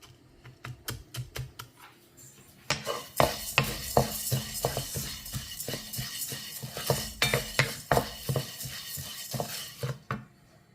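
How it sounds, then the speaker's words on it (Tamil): Horse gram is stirred while roasting in a pan, a utensil scraping and clicking in quick irregular taps against the metal, sparse at first and then busier and louder for several seconds, with no voices. "இப்போ கொள்ளு நல்லா வறுத்துட்டேன்"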